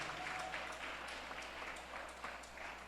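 Church congregation applause after a Bible reading, a steady, fairly faint wash of clapping across the room with a low hum underneath.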